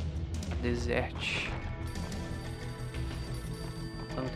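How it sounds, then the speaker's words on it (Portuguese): In a lobby in Max Payne on PS2, a vandalised telephone rings amid a dense, busy mix of other game sounds, with a sharp clatter early on and the ringing continuing throughout. "Um telefone atacado por vândalos no saguão da entrada estava tocando"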